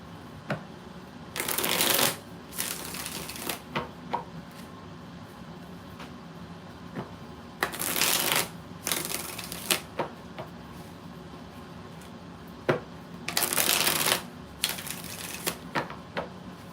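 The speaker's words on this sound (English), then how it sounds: "All right, 6 shuffles for Debbie's question" Three bursts of tarot cards being shuffled, each lasting about a second or two, separated by quieter gaps with light clicks and handling noise.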